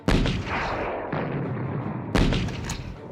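A Mauser G98 bolt-action rifle fires three loud, sharp reports roughly a second apart, each followed by a rolling echo, with no voices over them.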